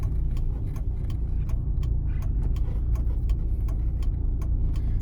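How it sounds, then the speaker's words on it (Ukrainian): A car's left turn signal ticks steadily and faintly inside the cabin over a constant low engine and road rumble while driving on a town route. "Завчасно вмикаємо лівий покажчик повороту"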